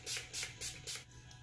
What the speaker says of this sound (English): we're gonna go in and spray it a couple times just for safe measure